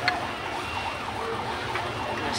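Police siren wailing on a busy city street, its rising and falling tone sweeping steadily through dense traffic and crowd noise over a couple of seconds.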